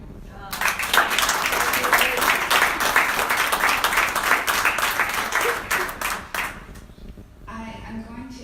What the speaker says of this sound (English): Can I please get you to give Kelly a round of applause?